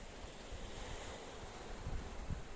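Faint sea waves wash into a small beach cove at Playa de Rincón, a soft continuous surf with wind noise blowing across the microphone and no voices.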